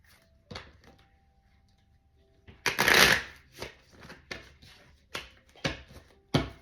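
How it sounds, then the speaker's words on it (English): Tarot cards riffle-shuffled close by: a loud burst of rapid flutter in the middle, followed by several sharp taps and softer card handling. "One more shuffle for Leo."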